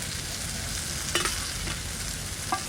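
Taro frying with coconut paste gives a loud, dense, continuous sizzle close by, broken by a couple of brief scrapes as the mixture is stirred.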